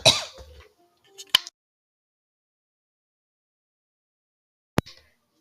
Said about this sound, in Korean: 기침했어요.